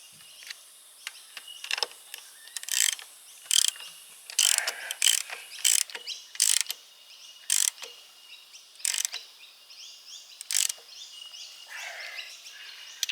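Ratchet socket wrench clicking on 3/4-inch studs with 1.25-inch nuts on an International Transtar truck wheel, bursts of sharp ratcheting clicks in an uneven rhythm, close and clear with no talk.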